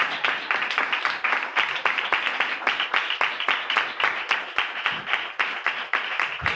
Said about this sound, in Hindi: आज की सारी बरकत के लिए जोरदार तालियां बजाएं।